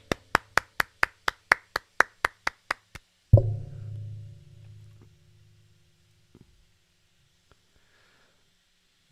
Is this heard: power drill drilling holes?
no